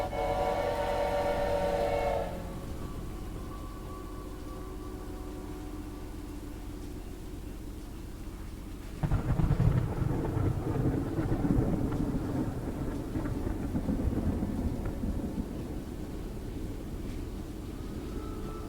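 A Choo-Choo Charles train whistle blows loudly for a couple of seconds, then a low, steady rumble of the train rolls on and swells louder midway, with no talking.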